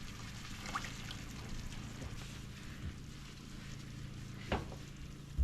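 Water sizzling and hissing on a hot kitchen stove, a steady close crackle with a few sharp pops and small splashes, no talk.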